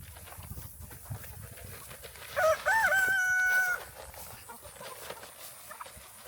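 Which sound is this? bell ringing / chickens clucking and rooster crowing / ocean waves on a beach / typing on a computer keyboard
chickens clucking and rooster crowing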